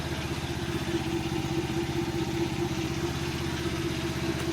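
A Volta Apec scooter's motor running at a steady idle, with an even, close, low chugging throb and light clatter that holds unchanged throughout, with no voices.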